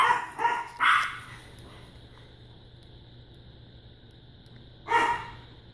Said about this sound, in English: My dogs are, they can be loud